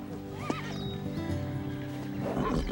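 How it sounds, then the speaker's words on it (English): A horse gives a clear whinny early on, followed by snorting and faint movement nearby, with voices murmuring in the background. "Red put the other horses out, so Pepper's got company now."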